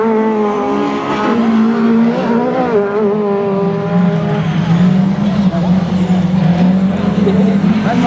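Rallycross race cars in a B final for the up-to-2400 class at Røssvoll, engines roaring loud and continuous as they drive the track, with shifting revving tones and some tire noise.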